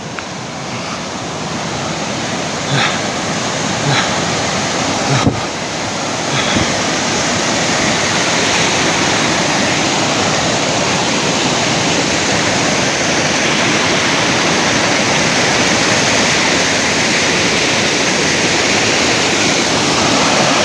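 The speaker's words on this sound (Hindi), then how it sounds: "यहाँ से झरना बह रहा है" A Himalayan waterfall beside a mountain path near Yulla Kanda in Kinnaur pours in a loud, continuous roar, dense and unbroken, with a few faint knocks early on.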